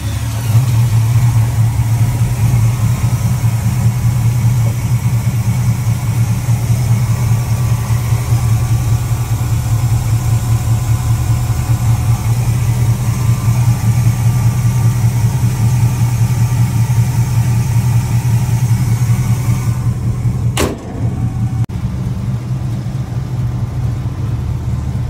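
A 1979 GMC C1500 short bed pickup truck engine idles steadily and close, a low continuous rumble that holds even for about twenty seconds before a brief sharp click and a slightly quieter idle continuing.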